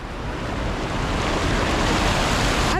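The strong current of the Padol River in Quezon, Nueva Vizcaya rushes past in a dense, continuous roar of flowing water, close and loud with no voices.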